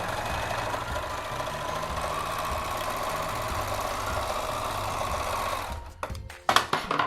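A serger overlocker stitches folded fabric in a fast, steady mechanical whirr with rapid needle chatter, close and continuous, then stops with a few clicks and handling knocks at the end.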